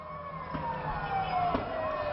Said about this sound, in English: we can even hear the sirens going